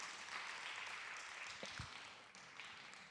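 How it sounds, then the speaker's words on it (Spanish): A church congregation applauds during a sermon, a steady, fairly quiet wash of clapping that holds evenly throughout with no voices over it. "Dele fuerte el aplauso al Señor."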